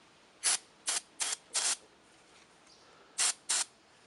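Six short, sharp bursts of carb cleaner spray hiss close up onto a lawn mower engine, four in quick succession, a pause, then two more.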